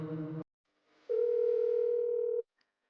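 A telephone dial tone sounds as a call is being made, one steady clear tone held for over a second after a short burst of other sound and a brief pause.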